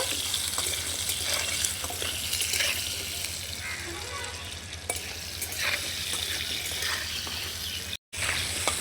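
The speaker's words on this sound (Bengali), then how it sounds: "আলুগুলোকে লাল লাল করে ভেজে নেব।" Potatoes with salt fry in hot oil in a pan, giving a steady, dense sizzle that holds throughout with soft stirring noises, broken only by a brief silent gap near the end.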